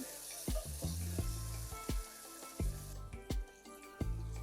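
Tomatoes and a sprig of curry leaves sautéing in a pan for sambar rice, a low steady sizzle broken by several sharp clinks and scrapes of a spoon stirring at irregular intervals, close and moderately loud with no talk.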